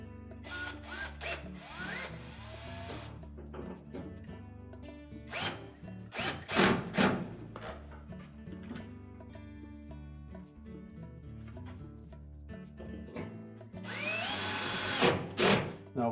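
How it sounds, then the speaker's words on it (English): Mounting screws driven into a cold water valve on a Whirlpool washer, heard as short whirring bursts from a nearby driver with clicks and handling clatter between them, and a longer run near the end. "So we'll reinstall those 2 mounting screws."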